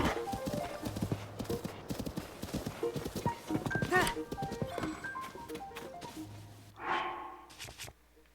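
Horse hooves clip-clopping in the video game Tears of the Kingdom: a steady, close rhythmic trot with a snort near the end, over soft in-game music, while someone talks throughout.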